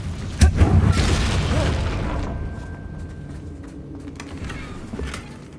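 A Confringo blasting spell explodes in Hogwarts Legacy, a heavy close boom at the start that rolls off into a long fading rumble.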